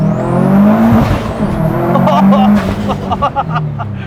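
A Subaru WRX STI engine revs and accelerates hard, loud rising engine tones climbing in pitch with gear changes, close and forceful throughout.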